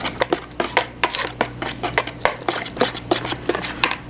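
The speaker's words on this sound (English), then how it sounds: "Stir that in until well incorporated." A spoon stirring sugars into cupcake batter in a bowl makes a steady run of scraping, clinking strokes in an even rhythm, close and fairly clear with no talking.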